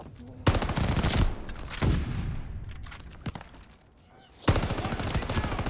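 Bursts of rapid automatic gunfire from a shooting video game, loud and close, arriving in several volleys with short pauses between them and a long sustained burst at the end.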